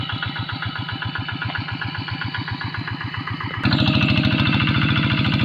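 Steady diesel engines knock and rumble close by, then abruptly grow louder and harsher partway through as if revved or approached.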